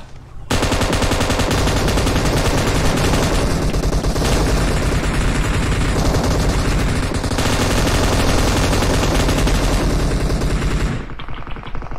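Loud, dense automatic gunfire from PUBG Mobile rattles almost nonstop for about ten seconds, rapid shots blending into a continuous roar before cutting off abruptly, with no talking over it.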